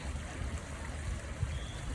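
Rough water flowing outdoors in the rain, a steady low rushing and churning wash heard at moderate distance without any voices.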